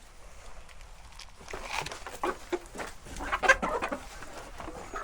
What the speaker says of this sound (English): the chickens know what they're gonna get in a minute, so they're all freaking out